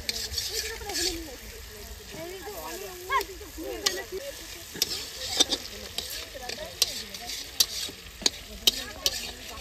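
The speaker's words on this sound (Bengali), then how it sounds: "পেঁয়াজ আর টমেটো ভাজা হয়ে গেছে।" Chopped onion and tomato frying in a pan at an outdoor January picnic: a continuous sizzle broken by repeated sharp scrapes and knocks of a stirring spoon, while voices murmur in the background.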